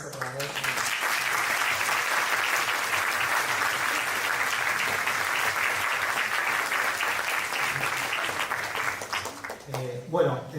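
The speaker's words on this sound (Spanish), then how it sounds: "terminamos con un aplauso otra vez" Audience applause closing a conference panel, steady dense clapping sustained for about nine seconds before tapering off as a voice begins to speak.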